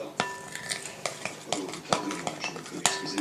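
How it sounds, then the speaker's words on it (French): Chocolate cake batter with flour being mixed in a bowl, with repeated clinks and scrapes of a utensil against the bowl in an irregular rhythm, close and moderately loud. "Hop là, la farine et on mélange."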